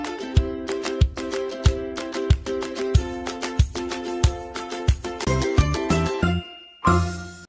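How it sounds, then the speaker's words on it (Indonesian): A bright bell-like jingle rings out in a repeating rhythmic pattern of chimes, building toward a final flourish before stopping. "aktifkan lonceng notifikasinya"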